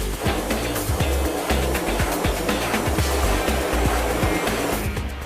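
A 3,000 psi pressure washer sprays a print screen from about 18 inches, a steady, loud broadband hiss with a rough, pulsing low rumble, continuous throughout.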